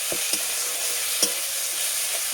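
Ginger paste frying in a pan with garlic and onion gives a steady hiss of sizzle, broken by a few sharp scrapes of stirring.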